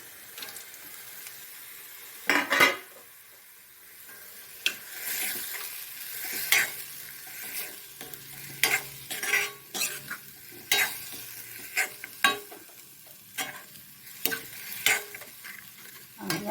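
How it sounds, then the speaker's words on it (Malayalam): Prawns fry in a pan with a quiet background sizzle, broken by repeated scraping stirs of a spatula that come in irregular bursts, close and distinct, with no talking. "ഈ ചെമ്മീനങ്ങ് ഇട്ട് കൊടുക്കാം."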